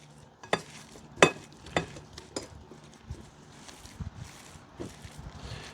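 Soft, faint squishing of ground meat being worked by hand with breadcrumbs, egg and Worcestershire sauce, with a few light taps and pats scattered through a quiet background.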